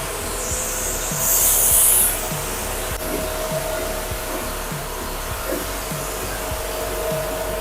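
At a car wash in Kolkata, a pressure washer gun sprays water onto a car engine with a constant loud hissing rush. A brief louder burst comes early, and faint rhythmic knocks sit underneath.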